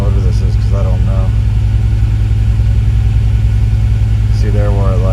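A 2000 Ford Windstar with a 3.8L engine, misfiring and running lean, is held under brake torque, giving a loud, steady engine drone throughout with no break in the noise.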